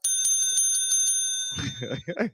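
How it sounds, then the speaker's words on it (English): A small bell rings with rapid bright repeated dings for over a second, then a voice speaks briefly as the ringing fades. "Got our own little mini bell"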